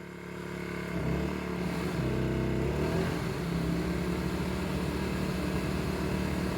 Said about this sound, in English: let's see how this generator does